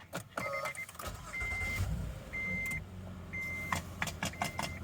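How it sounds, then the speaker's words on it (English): A 2017 Honda Odyssey Touring Elite van is started by push button with the key fob inside: a brief starter crank and engine catch, followed by steady idle, several electronic chimes and some clicks and rustling nearby. "let's go ahead and we'll fire this up. It's not a vehicle tour until we do a startup on it. Push button start."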